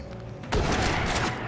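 Loud gunfire burst in the Western tactics game Hard West 2, with several overlapping shots and booms cracking in after a quieter half-second of background, close and dense.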